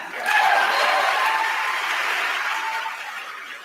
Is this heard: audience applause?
yes